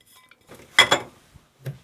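Diced onion, celery, carrot and fresh thyme tipped from a plate into a slow cooker, heard as a brief clatter and clink of dish against pot, close and alone.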